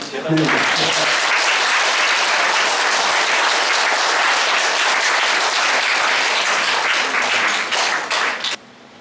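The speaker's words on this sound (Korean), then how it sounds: "큰 박수로" Loud, sustained audience applause at a Buddha's Birthday Dharma ceremony held by a police station, dense and steady for about eight seconds before cutting off abruptly.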